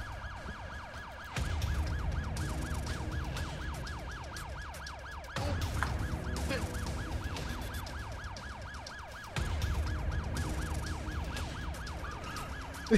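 A haunted ambulance in a video game blares its siren continuously, a fast repeating wail that stays loud and close throughout, briefly swelling in bursts, with no one talking.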